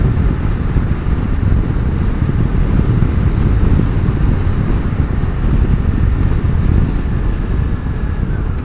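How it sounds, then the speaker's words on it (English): Steady, loud wind rushes past a rider's helmet on a motorcycle cruising around town, a continuous low roar with no breaks and no talk. "So I like the feel of the wind in my helmet."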